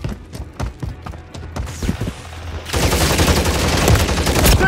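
Gunfire in a Call of Duty video game: a string of sharp close shots in uneven bursts, then a dense sustained barrage of rapid fire that fills the rest of the clip.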